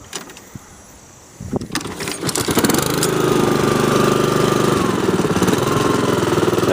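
Honda HRX217 walk-behind lawn mower pulled to start, a quiet moment and a few rattles before the engine catches and settles into a loud, steady close-up drone.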